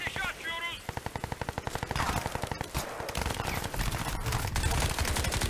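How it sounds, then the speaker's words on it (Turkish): Suppressing gunfire in the shooter game Crysis 3: rapid automatic bursts rattle out in a fast, even rhythm, loud and close, then blur into dense overlapping fire and explosions. "Bastırma ateşi açıyoruz."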